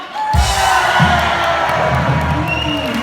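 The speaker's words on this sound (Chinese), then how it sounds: "现场来点热情的尖叫声，好不好？" A live concert audience cheers and screams loudly for a singer, a dense sustained roar of crowd voices that stays strong for the full three seconds.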